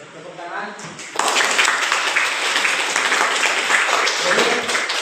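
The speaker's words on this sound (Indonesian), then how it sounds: "Lalu tepuk tangan." A classroom group breaks into applause, steady dense clapping that starts suddenly after a voice and carries on evenly for several seconds, close and fairly loud.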